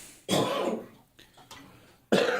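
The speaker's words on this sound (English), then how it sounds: "We're some coughing fools today" Several harsh coughs close by, two strong bursts at the start and end with smaller hacking coughs between, no talking.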